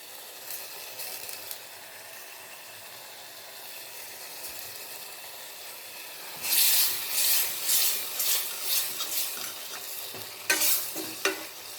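Curry leaves and coriander dropped into a pan of hot oil, a soft sizzle swelling into loud crackling spatter with repeated stirring strokes, close by and with no talking.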